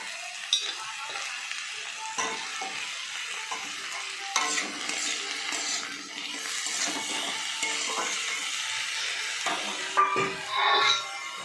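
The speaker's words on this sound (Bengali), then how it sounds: "আর কেটে রাখা ছোট ছোট করে বেগুনের টুকরোগুলো দিয়ে দিচ্ছি।" Small eggplant pieces fry with gime greens in a pan, a soft continuous sizzle with intermittent spatula scrapes and light utensil clatter close by.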